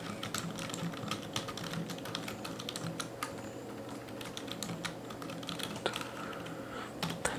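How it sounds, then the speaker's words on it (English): Rapid, steady typing on a computer keyboard, with dense clicking keystrokes running continuously over a low background hum, close and moderately loud throughout. "we can simply type the message"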